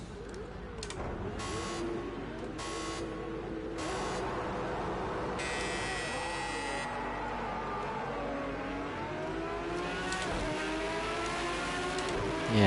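Race car engines in a racing video game, several engines droning and revving with repeated gear-shift pitch sweeps and up-and-down rises, steady and close, with no speech over them.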